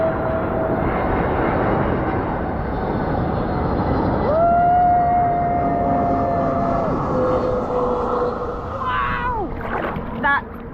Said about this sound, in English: There's a plane coming in at the moment.